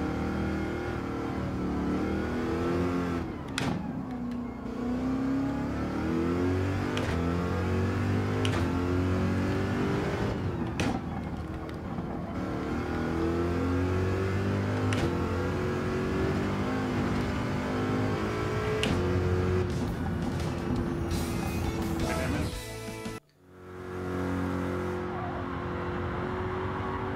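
A race car engine in Gran Turismo 7 revs hard through the gears for a sustained stretch, loud and close, with pitch rising and dropping at each shift, then cutting out briefly near the end before picking back up.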